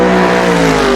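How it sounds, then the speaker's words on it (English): A Mercer V8 race car engine in Assetto Corsa drones loud and close, holding a steady, rich harmonic tone throughout with no talking. "How the car feels, how the car sounds is spot on"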